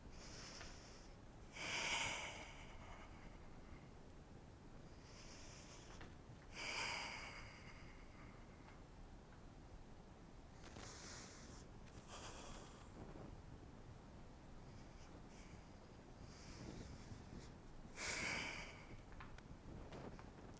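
Slow, long breaths during a yoga warming flow, several drawn-out airy inhales and exhales spaced a few seconds apart, close and soft against a quiet background, with no talking.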